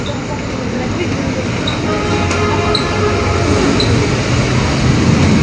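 Constant loud rumble and rattle inside a moving LRT light rail train in Manila, with faint squeals of wheels on the rails, steady throughout.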